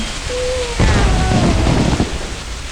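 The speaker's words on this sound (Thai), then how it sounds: "ฝนมันดันไม่หยุดนะ" Rain falling in the Mini World video game, a steady hiss of rainfall that thickens into a heavier rumbling downpour partway through, with a brief tonal game sound before it.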